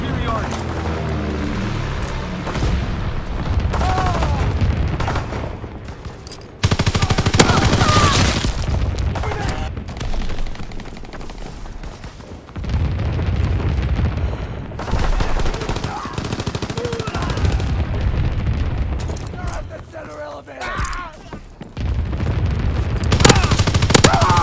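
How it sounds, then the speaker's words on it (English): Heavy anti-aircraft fire and gunfire in the video game Call of Duty WWII, with loud sustained bursts and rattling volleys that repeat through the clip, broken by brief lulls, with in-game voices at times. "Enemy anti-aircraft fire!"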